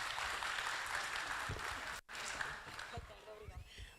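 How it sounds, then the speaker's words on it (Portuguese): A conference audience at a public forum in Lisbon applauds for a couple of seconds. After a sharp cut the clapping thins out and a voice starts speaking. "Uma salva de palmas"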